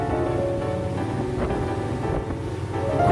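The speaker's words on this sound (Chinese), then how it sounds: "快艇开得很快， 溅起很多浪花。" A speedboat races across open sea near the Xisha Islands, its engine droning steadily under a constant wash of wind and splashing waves, loud and close throughout.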